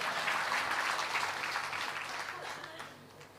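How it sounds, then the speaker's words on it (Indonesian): Audience clapping at a talk, a short burst of applause that starts strong and fades over about three seconds, fairly quiet and slightly distant. "Tepuk tangan dulu."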